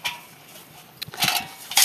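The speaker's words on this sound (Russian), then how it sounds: "вот печка, сделанная из нержавеющей кастрюли" A thin stainless steel pot bought at a household market and made into a camping stove is handled. It gives a few short metallic clinks and knocks, the loudest near the end, in a quiet setting.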